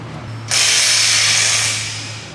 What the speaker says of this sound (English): Remove the nut using the 15mm wrench with the large electric impact wrench and large 18mm short socket